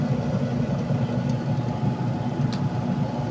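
A restored Fujidenzo double tub washing machine runs steadily with a low motor hum and churning vibration, close and continuous throughout, with a couple of faint high clicks and no voices.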